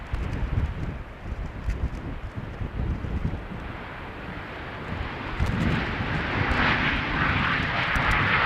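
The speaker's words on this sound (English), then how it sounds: "First up is going to be an A319 from Easyjet inbound from London Stansted" easyJet Airbus A319 jet arriving at Amsterdam Schiphol runway 27 on a windy day, a broad rumbling roar under gusty wind noise that swells louder toward the end as the aircraft draws closer.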